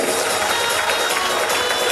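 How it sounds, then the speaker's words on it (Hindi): Parents at a school annual day and medal ceremony break into a steady wash of applause, dense and continuous like a crowded hall of hands clapping without pause. "जोरदार तालियां हो जाए पेरेंट्स"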